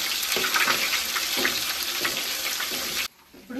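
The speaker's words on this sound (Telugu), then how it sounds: "అల్లం వెల్లుల్లి పేస్ట్ వేసుకొని అల్లం వెల్లుల్లి పేస్ట్ బాగా ఫ్రై అవ్వాలి" Ginger-garlic paste fries in hot oil in a pan for chicken pickle, with a loud continuous sizzle and occasional stirring scrapes that suddenly drop away near the end.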